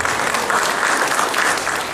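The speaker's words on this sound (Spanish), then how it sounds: "Por favor, recibámoslo con un fuerte aplauso." Audience applause fills the room after a speaker is introduced at a talk on Peruvian occupational health and safety law, a dense, steady clapping from a crowd that continues evenly throughout.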